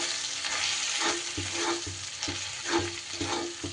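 Turmeric and Kashmiri chilli powder fry with ginger in hot oil, a steady close sizzle broken by repeated stirring scrapes.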